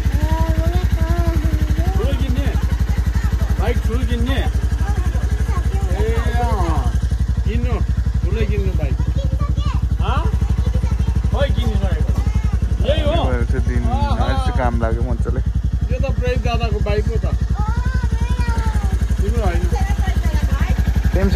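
A motorcycle engine runs steadily and loud throughout on a village road near Darjeeling, a constant low drone under people talking over it for the whole stretch.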